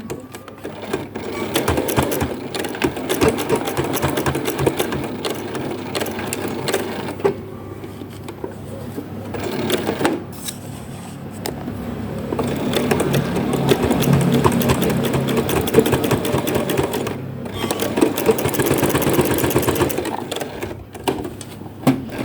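A sewing machine stitching a skirt waistband, running in close, loud bursts of rapid rhythmic whirring, with a couple of short pauses between runs.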